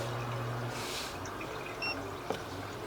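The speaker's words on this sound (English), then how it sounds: "We have some water running. We can hear that." Water runs steadily through a sewer cleanout pipe, a continuous hollow trickle and wash with a faint tick near the end, no talk.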